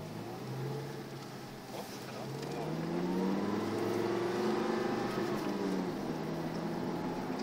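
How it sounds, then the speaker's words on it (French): A rear-engine car at the Gilles Villeneuve racing circuit, its engine droning and then climbing in pitch as it accelerates, a steady loud rumble throughout with no one speaking. "C'est fucké le son d'un moteur arrière"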